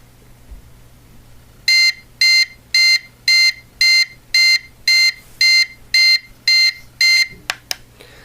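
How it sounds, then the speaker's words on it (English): DoneRight kitchen timer going off: eleven evenly spaced, loud, shrill electronic buzzer beeps in a steady rhythm, followed by a couple of short clicks, over a faint low hum with no talking. "it has a kind of annoying buzzer noise"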